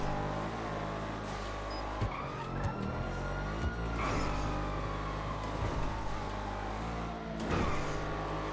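A V12 car engine in a racing video game drones steadily with rising and falling revs, tires squealing through corners, continuous and moderately loud.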